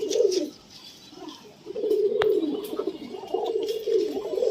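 Pigeons coo close by in soft, repeated throaty phrases with short pauses between them, and a brief sharp click cuts in partway through.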